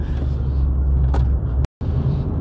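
A Vauxhall Corsa VXR is driven hard round a bend, its loud, close engine droning with deep low rumble and road noise, broken by one abrupt instant of silence.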